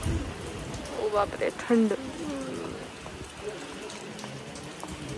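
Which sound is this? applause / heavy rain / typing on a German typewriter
heavy rain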